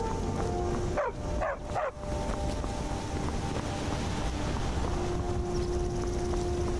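A dog in Skyrim gives three quick close barks in a row, then falls quiet under a steady, noisy game ambience.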